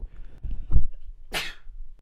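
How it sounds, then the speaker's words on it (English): A single loud, close sneeze, a brief sharp burst of breath after a short intake, with a little muffled movement around it. "Oh, I'm gonna sneeze."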